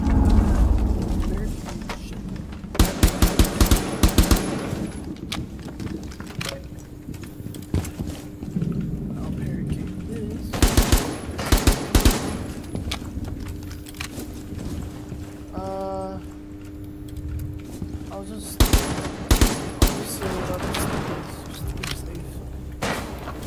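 Gunfire from a Rainbow Six Siege match, sharp loud bursts of rapid shots in several separate volleys spread across the stretch, with players talking between and over the firing and steady game ambience underneath.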